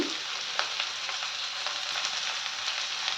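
Bitter gourd frying in a pan makes a steady, close hissing sizzle with faint scattered crackles and light stirring taps, even in level and without voices.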